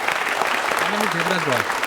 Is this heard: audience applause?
yes